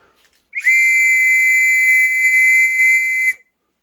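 A sustained, piercing WW2 metal trench whistle blown in one steady shrill note for about three seconds, loud and close, then cut off.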